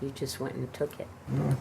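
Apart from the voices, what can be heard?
No everyday noises stand out.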